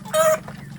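Free-range village chickens, young breeding stock, give one brief loud cluck at close range, followed by quiet background.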